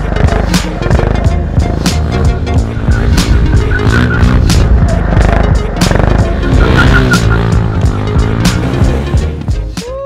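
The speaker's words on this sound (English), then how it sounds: "Man, those drifts are so fun." A RokOn motorcycle drifts with a loud, close engine that revs up and down in rising and falling whines, while its tires skid and scuff underneath.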